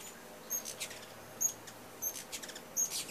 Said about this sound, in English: They kind of make a little chirping noise.